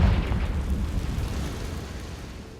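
A Confringo blasting spell detonates in Hogwarts Legacy with a deep, loud burst at the very start that fades into a long rumbling decay, with nothing else over it.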